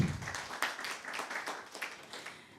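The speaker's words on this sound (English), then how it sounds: "A round of applause for him." Applause from an audience at a convocation ceremony for a governance internship program, a crowd clapping steadily at moderate loudness for a couple of seconds with no talking.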